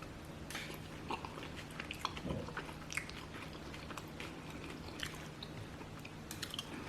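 Crunchy nachos topped with chimichurri sauce are bitten and chewed close up, a run of crisp crunches and wet mouth sounds with no talking.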